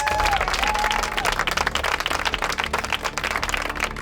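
Audience applause at an island community games event, a dense, steady roar of many hands clapping that fills the whole stretch, loud and close with a faint crowd murmur underneath.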